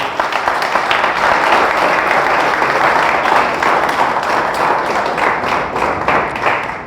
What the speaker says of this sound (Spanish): Dale fuerte el aplauso a nuestro Dios.